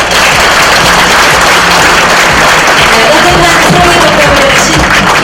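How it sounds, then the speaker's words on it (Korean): Loud, sustained applause from a large audience fills a district New Year greeting ceremony, with a faint voice heard under the clapping. "의장님께 다시 한번 큰 박수 부탁드립니다."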